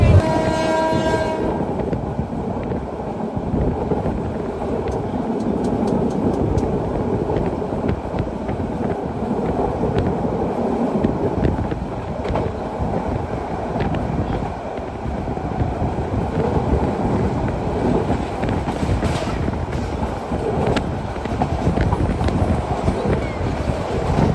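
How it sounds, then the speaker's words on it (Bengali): Sagorika Express train pulling out of Feni station, a short horn blast at the start, then steady loud rumbling and rattling of carriages with wind buffeting, heard from on board. "ট্রেন বেরিয়ে যাচ্ছে ফেনী স্টেশন থেকে"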